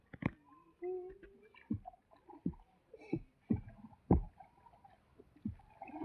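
A small boat is rowed on water, with oars dipping in a slow, uneven series of soft knocks and splashes, quiet and close, among occasional faint voices.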